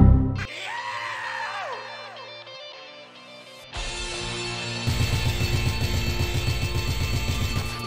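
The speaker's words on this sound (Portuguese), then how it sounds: "o Pepino dá esse grito aqui quando ele vê o Pikmin" Peppino screams in the video game Pizza Tower, a shrill, wavering cry over game music, followed by louder layered music and effects.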